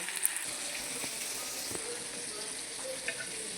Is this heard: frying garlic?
yes